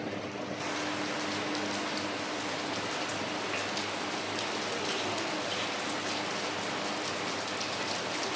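Heavy rain pours steadily over rice fields in rural Pakistan in a dense, hissing wash of drops for the whole stretch, with no voices.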